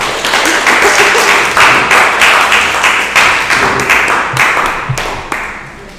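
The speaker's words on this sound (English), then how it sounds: "We give her a round of applause." A small audience at a lesson night claps steadily for several seconds, a close, dense patter of hands that slowly tapers toward the end.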